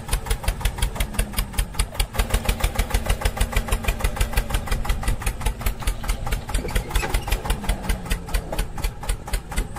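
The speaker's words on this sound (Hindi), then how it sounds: "तुम भी चलो ट्रैक्टर, तुम भी जल्दी से पहुंचाओ घर तक।" A mini tractor engine idles close by with a loud, steady putter of rapid, even beats throughout.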